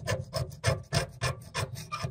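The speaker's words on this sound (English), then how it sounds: "I'm just using the knife flat and just rubbing it up against, maybe get some of the deposits off if there's any lime or anything." Flat blade of a knife scraping lime and mineral deposits off a Pfister Shelton kitchen faucet, eight rhythmic rasping strokes, close and steady with no talk.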